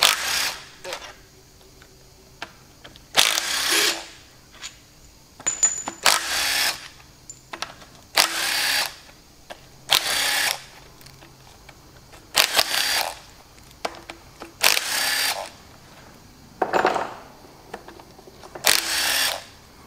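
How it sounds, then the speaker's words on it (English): A ratchet with a 9/16 socket undoes the bolts on a Chamberlain tractor's front gearbox cover, making a series of separate rapid clicking bursts, close and fairly crisp, with quiet pauses between bolts and no talk. "And we'll just run around all these bolts to hold the main back cover on here."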